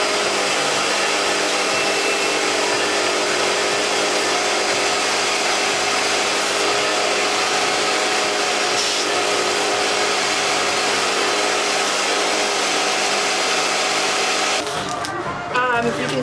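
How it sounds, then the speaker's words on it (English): A household vacuum cleaner with its nozzle held over the valve of a clothing storage bag, drawing the air out in a steady, loud, continuous roar that holds for about fifteen seconds before shifting and cutting off at the end. "you take your vacuum nozzle, put it over the hole, and then turn on your vacuum, and you literally just let it do its work"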